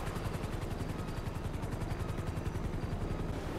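A helicopter in the GTA 5 roleplay video game, its rotor chopping in a fast, steady pulse with a continuous engine whine, close and constant, without talk.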